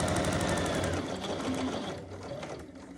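A sewing machine stitches a quilt in a fast, close, steady mechanical whirr of rapid needle beats, slowing and fading at the end.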